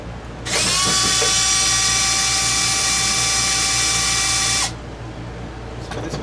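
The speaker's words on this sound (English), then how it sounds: "I'm going to remove the two screws that's holding these arms in." A power drill or electric screwdriver runs in one steady high-pitched whine for about four seconds, backing screws out of the control arms on an Arrma Limitless 3S RC car, with a few faint clicks after it stops.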